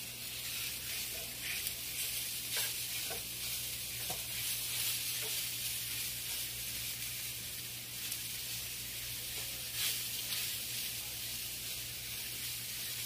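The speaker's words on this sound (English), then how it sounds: "So while I'm browning my sausage on the stove" Sausage browning in a cast iron skillet after bacon grease was poured off, a quiet steady sizzle with faint spatters and a low hum underneath, no talking.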